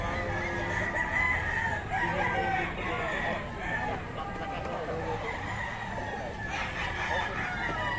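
Stag rooster at a Bocaue poultry setting crowing and clucking close by, repeated calls over a busy background of other fowl and people talking.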